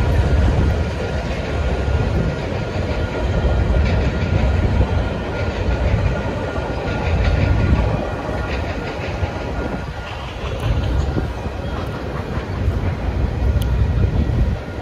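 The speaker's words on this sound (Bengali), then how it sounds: "মাল বহনকারী ট্রেন" A freight train rolls steadily past in Canada, a loud, continuous rumble and rattle of wagons lasting throughout with faint clickety-clack, no voices over it.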